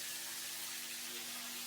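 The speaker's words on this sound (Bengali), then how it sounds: "দিলাম একটু জল।" Water poured into a ginger, green chili and cumin paste for a Bengali prawn and pumpkin dish, a soft, steady hissing trickle, faint and alone.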